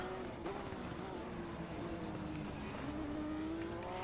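A Honda race car in a sim racing event at Paul Ricard drones steadily at mid distance, its engine pitch holding and rising slightly, with a faint commentator voice underneath.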